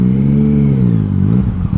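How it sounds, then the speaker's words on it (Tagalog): A Yamaha Tracer 900's CP3 three-cylinder engine with an Akrapovic full exhaust system revs up and settles, a loud, close, throaty growl with shifting pitch. "ang gustong gusto ko sa CP3 engine is yung sound niya"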